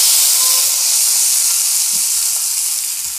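Ghee poured into a hot tempering of chilli powder and asafoetida for one-pot sambar rice sizzles loudly and close. A bright, steady hiss lasts the whole stretch and fades slightly at the end, with no talk over it.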